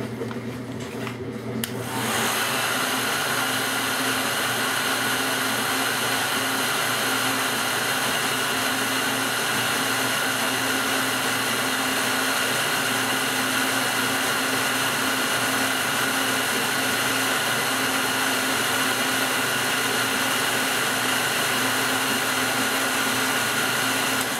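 A hair dryer starts with a click and then blows in a loud, steady roar close by for over twenty seconds, drying a layer of paint on a model horse's eye.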